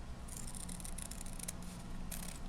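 Scissors snip through paper in a few quick, crisp cuts, close by and quiet, with a soft steady background hum.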